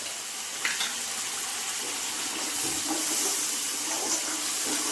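Water from a bowl goes into cashew paste cooking in a pan for a homemade paneer and cauliflower curry, giving a steady, close hiss and sizzle of liquid hitting hot oil that runs throughout without talk.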